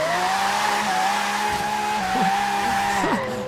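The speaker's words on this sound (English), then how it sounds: "This thing drifts as well." A 2016 Aston Martin Vulcan drifts in Forza Horizon 3, its engine droning steadily under a continuous tire squeal that wavers in pitch near the end.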